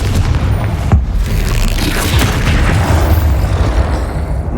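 A loud explosion from the Confringo spell in the Hogwarts Legacy video game, a booming blast followed by sustained rumbling roar and debris noise filling the clip.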